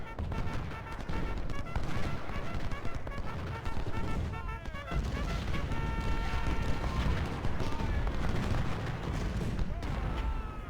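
Dense musket and cannon fire from a Civil War battle in the strategy game Ultimate General: Civil War, Brandy Station, with a continuous roar of overlapping volleys and crackling shots that does not stop.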